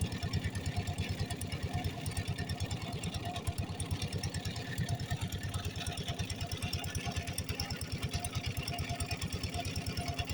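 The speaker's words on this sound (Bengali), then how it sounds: "কেউ মোটরসাইকেল নিয়ে চলে আসে।" A motorcycle engine idles steadily nearby at a ghat on the Dhaleshwari river, its fast, even chugging pulse continuing throughout without pause, moderately loud and unaccompanied by speech.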